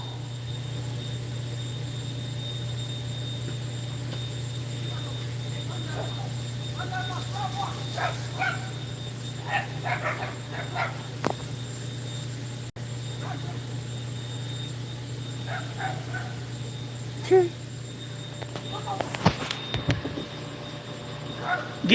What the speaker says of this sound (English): There's the neighbor's dog.